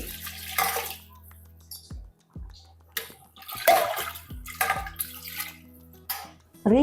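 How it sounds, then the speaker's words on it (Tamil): Water poured into a pot of mutton biryani during cooking, heard as several separate bursts of splashing and trickling with clinks of a vessel in between, close and fairly loud. "நம்ம தண்ணியை இதில் ஊற்றிடலாம் ஒரு கப் அளவுக்கு தண்ணி"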